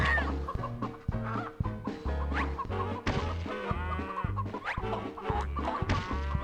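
Repeated chicken clucking sound effects in the video game Bubsy, loud and busy, over a bouncy game music track with thumping hits.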